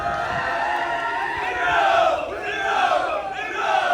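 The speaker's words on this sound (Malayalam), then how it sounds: "നല്ലൊരു കൈയടി കൊടുക്കാം." A crowd at the Gothuruth boat race 2024 trophy presentation roars with loud cheering and whooping voices that swell and rise in waves, near and energetic, over a continuous background of crowd noise.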